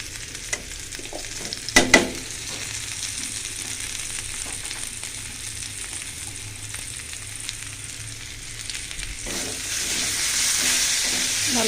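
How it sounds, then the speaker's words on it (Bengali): Fried potatoes sautéed with spices in a pan sizzle loudly and continuously up close, with a burst of scraping stir strokes early on and the hiss swelling stronger toward the end. "ভালো করে একটু কষাই, একটু পানি দিয়ে কষাই দেব"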